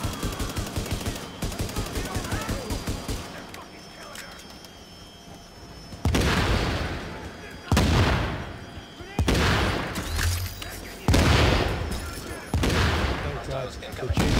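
Video-game gunfire with explosive rounds in an underground fight against heavily armed hostiles: scattered shots at first, then several loud, sharp bursts with booming impacts in quick succession.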